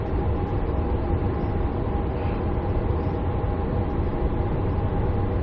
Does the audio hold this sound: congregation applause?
no